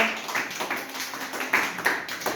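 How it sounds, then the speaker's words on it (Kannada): Children in a classroom clap in a brief, uneven patter of light slaps lasting about two seconds. "ವೆರಿ ಗುಡ್ ಹೊಡ್ರಿ ಜೋರ ಚಪ್ಪಾಳೆ"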